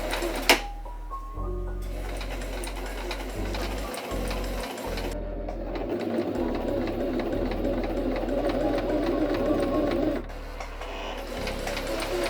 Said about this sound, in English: I just did all the quilt lines and it took me 3 hours